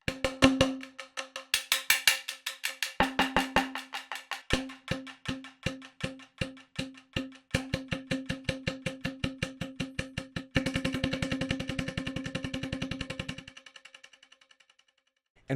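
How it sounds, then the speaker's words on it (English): Pitched multi-mallet percussion from the 8Dio Suspended Tonal library, rapid tempo-synced repeated strikes on a sustained tonal note with rolling velocity swells, clear and alone, thickening into a dense roll near the end before fading. "Let me just play a little bit with the multi-mallets here"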